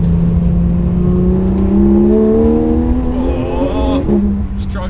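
Porsche 911 GT3 RS revving hard up a bumpy stretch of Klausen Pass, engine note climbing steadily through the gears with a brief drop and shift near the end, loud and close throughout.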